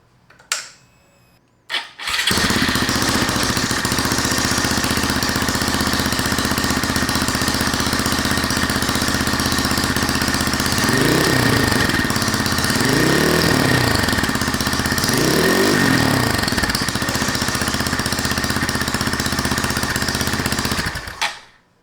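A Honda Monkey or Grom fitted with a Tyga underbelly exhaust, silencer installed, starts and settles into a steady, loud idle close by, with a few rhythmic blips of revving partway through.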